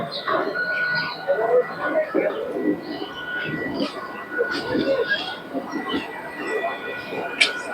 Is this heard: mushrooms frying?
no